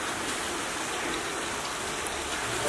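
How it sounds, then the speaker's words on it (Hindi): Water running out of a natural spring beside a Shiva lingam near Solan, a continuous hissing, splashing flow heard up close and steady throughout, with no talking. "इधर भी पानी निकल रहा है"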